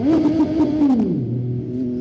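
A motorbike cruises along a rural road past cut-down tree lines, its engine droning steadily and loud, the pitch holding then dropping as it eases off at about the one-second mark and settles into a lower hum.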